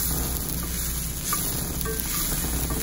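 Moong dal and green beans usili being stirred in a hot pan, a continuous close sizzle with soft scraping of the spoon mixing them together, no voices.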